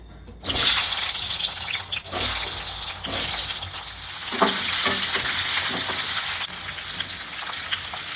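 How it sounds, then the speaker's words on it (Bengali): Boiled, peeled baby potatoes slide into hot oil, setting off a loud, continuous close sizzle with occasional spoon scrapes and stirring knocks. "তেলটা গরম হয়ে গেছে, আলুগুলো ছেড়ে দিচ্ছি।"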